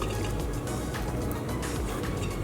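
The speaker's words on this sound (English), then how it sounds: "pour everything on that screen," Peach oat groats liquid from an Instant Pot pressure cooker poured onto a strainer screen, giving a steady, continuous splashing pour for a couple of seconds with no talking.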